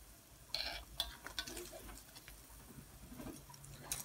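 Achappam fry in hot oil with a soft sizzle and bubbling while a ladle scrapes and clinks against the pan to scoop them out, close and quiet, in scattered taps and stirring sounds.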